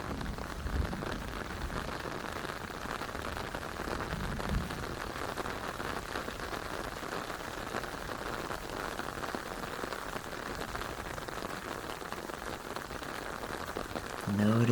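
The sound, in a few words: rain falling, a storm soundscape for meditation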